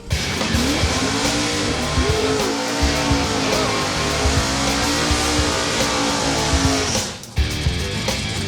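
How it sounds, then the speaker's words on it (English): Drag race car doing a burnout on a drag strip at a racing event, with a loud sustained roar and tire squeal lasting about seven seconds before cutting off abruptly, then resuming briefly. "That is a nice burnout."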